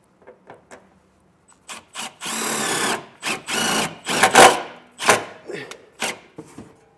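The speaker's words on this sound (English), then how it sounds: "I'll take a self-tapper and I'll drive it in right there." A self-tapping screw is driven by a power drill during a Redarc Tow-Pro Elite brake controller install on a 2024 Toyota, with several short close bursts of whirring motor and grinding bite into metal, separated by brief pauses.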